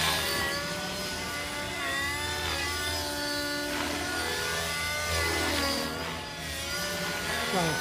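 A Gaui NX4 radio-controlled helicopter lifting off, its motor and rotors making a continuous whining drone that rises and shifts in pitch, loud and close throughout.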